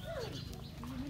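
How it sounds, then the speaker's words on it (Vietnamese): A bird calls in the open countryside, giving a short, faint, dove-like cooing note over steady outdoor background noise. "Con chim."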